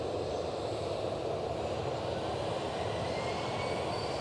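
A Ryanair airliner at Edinburgh airport gives a steady, broad engine roar that holds at an even, fairly loud level throughout, with no voices.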